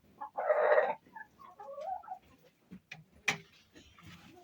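A broody hen gives a few close, soft clucks and short croaky calls, scattered among small clicks and rustling noises, with no talking.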